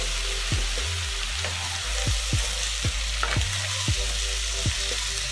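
Sweet potato hash frying in oil while being stirred, a steady close sizzle broken by repeated scraping strokes of a utensil against the pan, with no talking.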